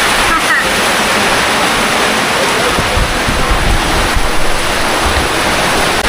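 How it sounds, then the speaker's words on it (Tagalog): Steady, dense roaring wash of heavy rain pouring down, loud and continuous with no pauses, like a downpour on surfaces close by. "Ayan po, grabe, lakas ng ulan."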